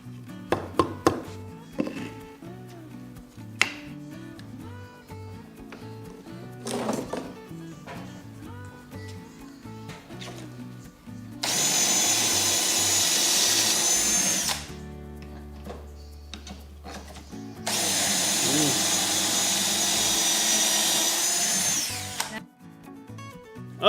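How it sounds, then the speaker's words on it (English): A power drill bores pocket holes in wood in a workshop: scattered knocks and clatter lead into two long, loud, close bursts of whining drilling, with no speech. "Pocket holes coming along nicely."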